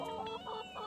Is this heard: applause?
no